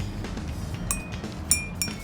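Glasses holding different amounts of water are tapped one at a time, giving a few sparse, bright clinks at different pitches, close and clear, with no talking.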